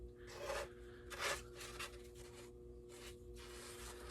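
A rasp scuffing lightly across the painted surface of a prop gives soft, close scraping strokes, several short rasps in an uneven rhythm.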